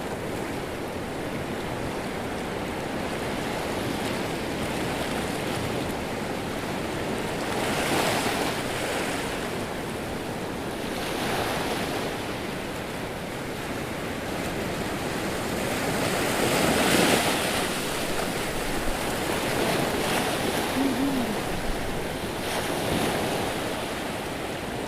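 Big ocean waves rolling in at the shore in Australia, a continuous roar of surf with several swelling crashes spaced a few seconds apart, mixed with gusty wind buffeting the microphone, no speech.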